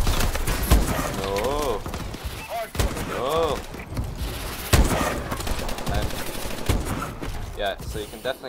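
Rapid gunfire and sniper shots in Call of Duty Advanced Warfare multiplayer on PC, bursts of fire running continuously with game effects and a voice talking over the action.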